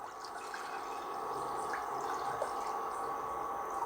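Water poured into a clay pot set on an induction stove, a steady, continuous pouring rush that holds at an even level for several seconds, close by and with no talking.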